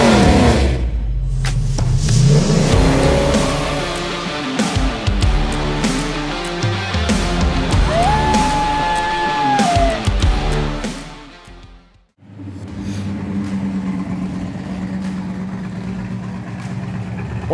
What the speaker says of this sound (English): Great sounding dual exhaust.